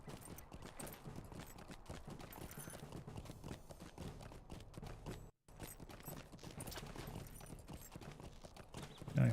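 Horse hoofbeats from riding a mount through Mordor in the online game Lord of the Rings Online, a steady busy clatter running throughout with a brief dropout midway, mixed with game background sound.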